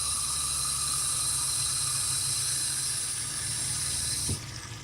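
Steady broadband hiss of water running from a kitchen tap, continuous and close for several seconds before the flow is shut off near the end, leaving a quieter room.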